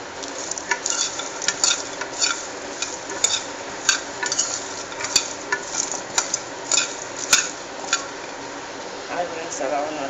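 Jackfruit seeds dry-roasting in a hot pan without oil, with repeated sharp clicks and rattles as they are stirred and tossed, a soft sizzle underneath and a voice talking over it.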